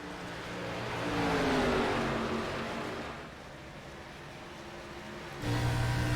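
An Outlaw Cup race car at Rockingham, heard from on board, holds a steady engine drone that swells, sags and climbs again in pitch, with no voices.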